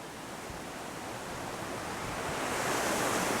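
Water rushes steadily at the Dan spring, a source of the Jordan River in northern Israel, as a dense, even roar that swells slightly louder toward the end.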